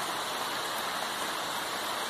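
Heavy rain pours steadily outside a sister's house during a pamonha-making day, an even broadband hiss that stays close and constant throughout, with no one talking.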